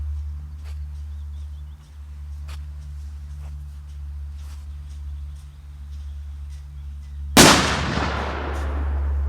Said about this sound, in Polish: Trzeba uważać, bo duża petarda.